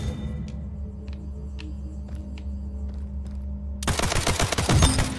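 Rapid automatic gunfire from a weapon in the video game Splitgate, a loud dense burst that comes in sharply after a stretch of low hum and faint clicks, with no voices over it.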